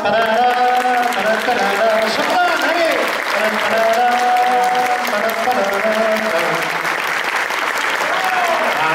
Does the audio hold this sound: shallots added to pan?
no